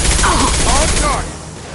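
Gunfire in Mass Effect Legendary Edition aboard the Collector Ship, a loud rapid rattle of weapon shots layered with electronic battle effects, cutting off abruptly after about a second.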